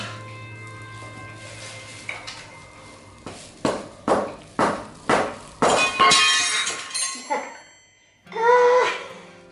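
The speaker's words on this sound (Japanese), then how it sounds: "ハンマーで叩いていくしかないんだよね" Sharp metallic hammer blows on Honda Super Cub motorcycle parts during a tire change, about seven strikes in a steady rhythm, close and loud, with a short ringing clatter afterward.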